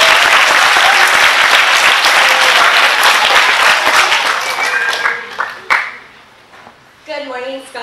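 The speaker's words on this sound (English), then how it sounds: "give a round of applause to Ms." Loud school-assembly applause for a second grade teacher, dense clapping from a crowd of scholars that swells then thins out over several seconds, with scattered voices and cheers near the end.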